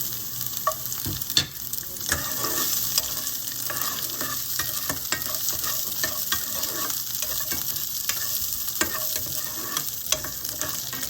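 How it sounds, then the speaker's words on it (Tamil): Garlic sizzling in hot oil in a pan alongside chana dal for a tomato garlic chutney, a continuous close crackling fry broken by repeated scraping stirs of a spoon. "இப்போ நான் வந்து பூண்டு சேர்த்துக்கிறேன்"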